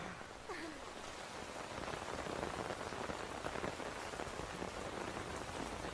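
Steady rain falls on surfaces in an animated scene, a dense, even hiss of drops that holds unbroken throughout with no speech.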